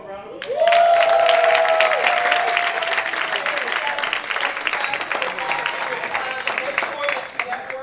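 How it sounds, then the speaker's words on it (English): A live real estate event crowd breaks into loud, sustained applause for a panel, starting with a brief musical sting and continuing as dense clapping that slowly settles over several seconds. "let's give our panel a round of applause"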